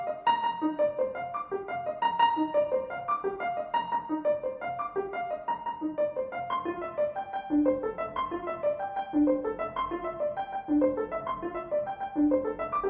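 Keyboard arpeggios of polychords, switching back and forth between two different polychord pairs in a steady, continuous stream of rippling notes, played alone with no voices.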